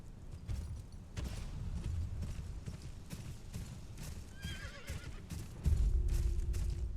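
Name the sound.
horse neighing and hooves in Game of Thrones Kingsroad video game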